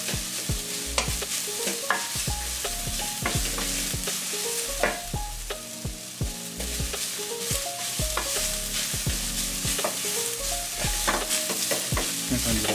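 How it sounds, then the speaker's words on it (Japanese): Butterbur miso being stir-fried in an oil-coated pan, with steady sizzling and frequent close scraping and stirring strokes in an irregular rhythm, loud and continuous without talk. "そしたら炒めてください。"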